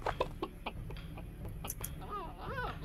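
A chicken in the game Witch It gives a few short clucks and squawks amid light game noise, close and moderately loud, with no talking.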